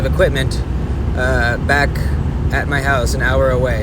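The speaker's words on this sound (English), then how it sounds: "I'm in my noisy truck driving on the freeway right now." Steady low road and cabin rumble inside a pickup truck cruising on the freeway, with someone talking continuously over the engine and tire drone.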